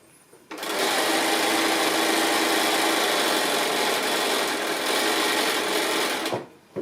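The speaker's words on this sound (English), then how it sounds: "So I'm just going to sew the roof on here now." A sewing machine stitching the roof piece onto a house block quilt, a close, loud, continuous high-speed whirring hum that starts abruptly, runs steadily for about six seconds, then winds down and stops.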